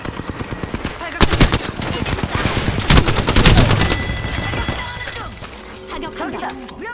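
Video game gunfire crackles in rapid automatic bursts with dense, loud volleys and sharp impacts. Voiced game callouts play over it, and it thins out toward the end.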